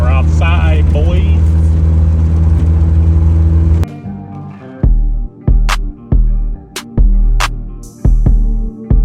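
A tuned, boosted car on its first drive after a turbo setup and EBC install gives a loud sustained engine roar, then cuts to short repeated revs and bursts under a voice.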